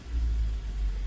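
A Nissan X-Trail engine catches and settles into a low, steady idle rumble, heard close and continuous for about a second with no talk over it.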